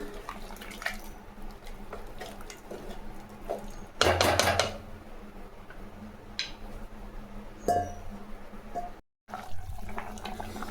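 Hot water poured from a pot into simmering sambar of turkey berries, a short splashing gush about four seconds in, then a smaller pour later, with clinks of vessels over a low kitchen hum.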